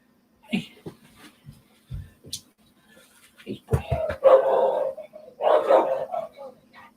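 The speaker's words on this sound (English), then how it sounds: "That's definitely a dog." A distressed-sounding dog gives several short barks and yelps close by, with a louder burst of rough vocalizing toward the end, mixed with a few quiet human sounds.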